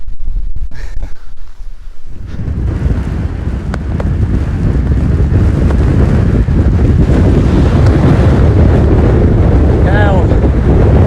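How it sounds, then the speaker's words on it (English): Strong storm wind buffeting a wild camp on a night forecast for 50 mph gusts, a roaring, gusting rush that builds after a calmer start and then stays loud and constant, with brief voices at the beginning. "It did give 50-mile-an-hour winds tonight, so it's going to be a crazy one, definitely, but just starting to feel it now"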